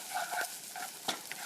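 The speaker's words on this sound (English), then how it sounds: "So now you've got your onions cooking." Onions frying in a pan for potato poha, a steady close sizzle with a few scraping stir strokes from a spoon, no talking.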